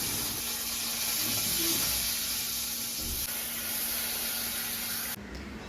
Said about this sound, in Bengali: একদিকে আমার আলু ভাজা হচ্ছে